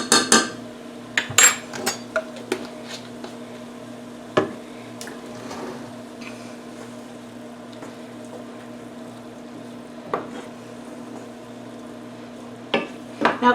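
Sausage and garlic stirred in a pan, with a low steady hum and scattered sharp clinks and scrapes of a utensil against the pan, quieter stretches between them.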